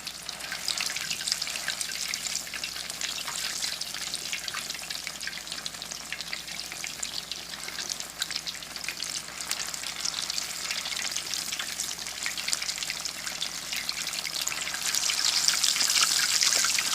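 Steady, crackling sizzle of potato cakes frying in hot oil, loud and continuous with no voices, growing slightly stronger toward the end.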